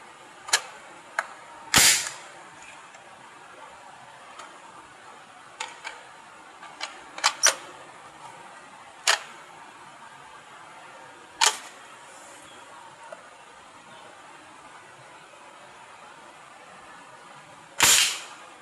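Test firing of a gun fitted with a replaced spring, heard as sharp, scattered snapping shots with irregular gaps between them, some louder and closer than others, over a quiet background.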